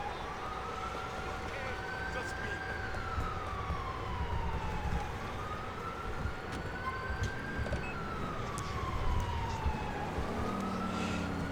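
Police siren from the GTA IV video game wailing in long rising and falling sweeps, a second tone layered over the first, steady and fairly close over a rumbling traffic and engine bed, with a voice talking underneath.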